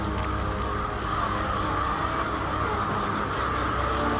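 Crows caw over a steady, dense wash of ambient game sound in Diablo IV, where the birds are shown on fire; the calls sit within continuous, fairly loud background texture with no talk.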